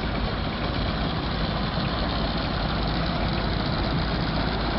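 An old farm tractor engine idles steadily at a steam show, giving a dense, constant, close rumble that never changes pitch or level, with no talk.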